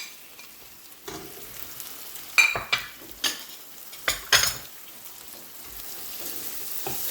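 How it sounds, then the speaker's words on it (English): Chopped tomato and green chilies stirred into chicken bhuna frying in a pan: a steady sizzle with several sharp scraping and clattering stir strokes, close and fairly loud, without speech. "Stir it in well."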